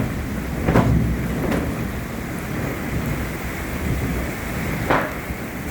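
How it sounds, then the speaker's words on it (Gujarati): An unseasonal thunderstorm over a Gujarat village brings steady heavy rain with a few sharp thunder cracks and rumbles spaced through the clip, loud and close with no voices. "જો ઓ બાપરે કેવડી ભયંકર વીજળી."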